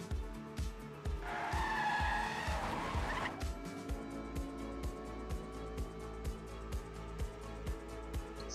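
Race cars speeding through a racing video game, an engine drone with rhythmic revving pulses and a burst of tire squeal and skidding early on, steady and mid-level with no voices.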